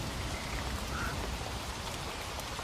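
Heavy rain pours down steadily in a Bengali horror cartoon, a dense unbroken patter with no voices over it.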